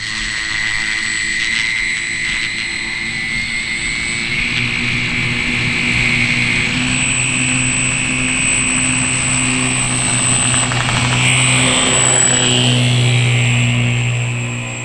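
A homemade DIY model airplane with weak landing gear flies and comes in for a rough landing, its loud, steady motor whine holding throughout with a rising pitch near the end.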